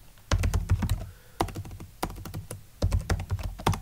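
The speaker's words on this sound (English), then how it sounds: "Type the sudo password" Fingers type on a computer keyboard in quick clustered bursts of crisp, close key clicks separated by brief pauses, with no talking.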